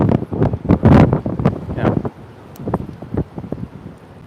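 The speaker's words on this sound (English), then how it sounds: "Because now with this heavy wind" Heavy wind buffets an outdoor microphone in loud rumbling gusts, strongest early then easing, with a brief spoken word in between.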